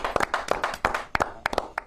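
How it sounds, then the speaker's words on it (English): Scattered hand claps, sharp and uneven, from a small group nearby rather than a full crowd roar. "let's give her sister another big round of"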